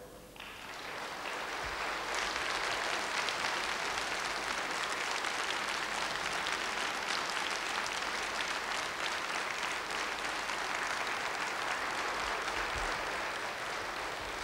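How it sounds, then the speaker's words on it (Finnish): Audience applause at a 1992 accordion concert celebrating the Kouvola accordion factory's 60th anniversary: a dense, steady wash of many hands clapping that swells quickly and holds at full strength for the whole stretch. "Otapa aplodit loppuun, niitä tulee niin hurjasti."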